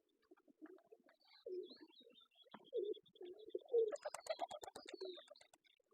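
Several pigeons coo in low, throaty rolling calls, close by, with a few faint chirps mixed in near the end.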